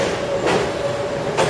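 A New York subway train arriving at a station: a steady loud rumble with a faint tonal whine, brief swells of hiss from the cars passing close, no voices.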